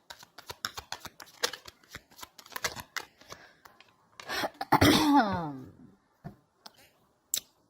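Tarot cards shuffled and flipped during a card reading, with a run of quick soft taps and riffles followed by a louder burst of flicking around the middle, then a few scattered clicks.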